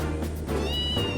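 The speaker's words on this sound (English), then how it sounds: "Is that a cat?" A cat meows in the video game Trails in the Sky, two clear rising-and-falling calls close together, loud and alone with a low game hum underneath.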